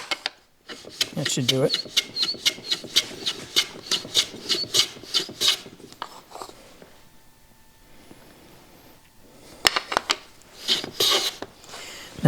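A hand plane cuts a chamfer along the edge of a wooden box in a quick series of close, rasping strokes, then pauses before a few more passes; someone speaks briefly.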